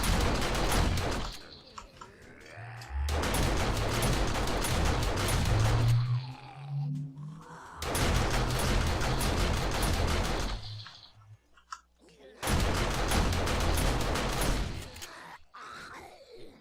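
Auto turret and shotgun turret in 7 Days to Die open fire on zombies, sounding as long, loud bursts of rapid gunfire with brief pauses between volleys and low groaning and thuds in the gaps.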